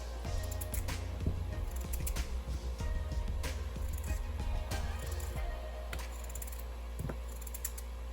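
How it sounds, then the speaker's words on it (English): Potatoes are cut with a knife, giving a quiet series of irregular sharp clicks and taps against a board over a low steady background hum. "Now my mom is cutting the potatoes."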